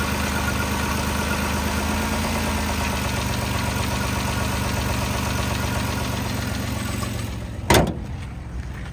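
A 2008 Chrysler Town & Country's 3.8-liter V6 idles steadily at close range, a continuous low engine hum, with a brief louder knock or clunk near the end.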